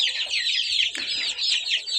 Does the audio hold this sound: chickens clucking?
yes